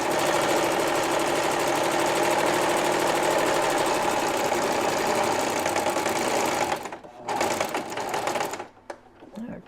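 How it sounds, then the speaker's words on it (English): A sewing machine stitches a quilt from one corner to the other, running loud and steady up close for about seven seconds before stopping and giving a few short, uneven bursts. "I'm going to stitch from one corner to the other corner."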